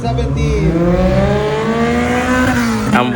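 At G1 Raceway, a Honda Civic FD drag race car screams loudly up close, its engine note climbing and falling through high revs during a drag race start.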